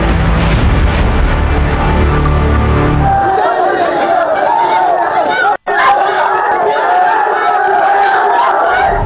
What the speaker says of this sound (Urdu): انتہا پسندوں نے حلق پھاڑ کر نعرے تو لگائے